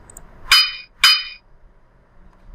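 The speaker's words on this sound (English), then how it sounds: "I need a sound of a hammer here" Two sharp metallic hammer strikes, spaced about half a second apart, ring out clearly as a sound effect attached to a PowerPoint animation, then fade into near silence.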